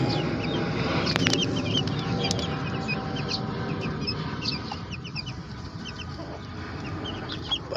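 Talisay and lasak gamefowl in a roomy new coop cluck and murmur continuously at close range, with occasional sharper calls over a constant background of farmyard rustle.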